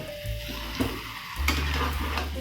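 Jackfruit and prawn curry frying and being stirred in a pan, a steady close sizzle broken by scraping stirs, growing louder after a moment.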